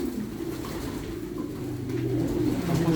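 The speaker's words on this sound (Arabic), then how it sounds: "دول شويه حمام" Meat pigeons of a French breed coo in an indoor loft, with a steady, low, rolling murmur from several birds close by and no talking.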